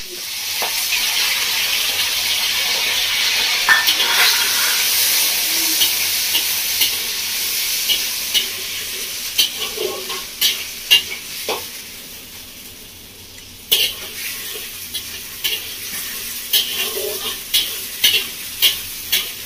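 Onion, medium tomato and slit green chillies sizzle steadily in a pan for a Bengali calbasu fish curry with ridge gourd, with a broad frying hiss and frequent scraping stirs that become sharp, clustered clicks and scrapes toward the end.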